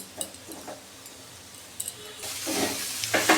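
Ghee and sugar sizzle in a pan while poha pulao is stirred on low heat. A soft steady frying hiss with occasional spoon scrapes swells louder near the end.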